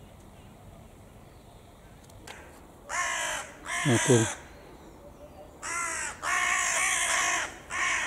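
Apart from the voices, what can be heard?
crows cawing by the Dnieper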